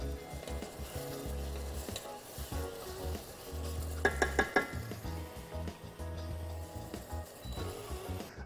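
Chicken sizzles steadily in a hot kazan while a utensil stirs and scrapes through it, with a few louder metallic clanks midway.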